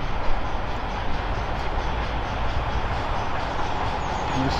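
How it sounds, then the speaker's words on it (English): Steam train on the Dean Forest Railway heading southbound downhill toward Norchard, running off throttle; a steady, loud rumble of wheels and carriages passes close by without pause, with no talk. "It's on its way southbound with a return train back down to Norchard."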